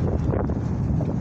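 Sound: wind

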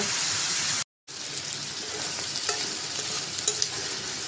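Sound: frying pointed gourd and potatoes with spices

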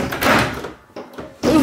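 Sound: door opening

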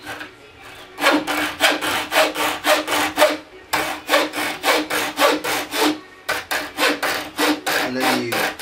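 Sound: sawing wood

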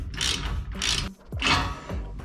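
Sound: cranking down a retractable jon boat transom strap ratchet

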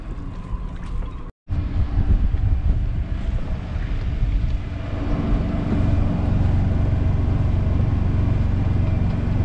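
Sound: wind on a boat in harbour

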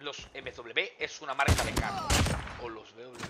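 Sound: gunfire in a video game shooter

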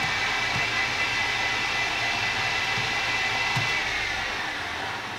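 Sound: BF20 CNC mill spindle running counterclockwise

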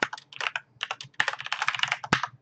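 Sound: typing a new password on a computer keyboard

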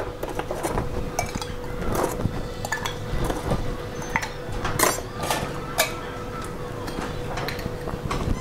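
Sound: ice being added to a Vesper martini

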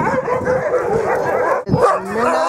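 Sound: sled dogs barking and yipping

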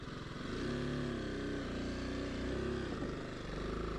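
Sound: BMW G 310 GS motorcycle riding at a crawl

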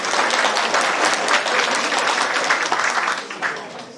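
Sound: applause

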